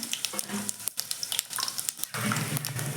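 Garlic fries in hot oil for village-style home cooking, crackling and sputtering in quick irregular pops that swell into a louder, fuller sizzle partway through, close up with no speech.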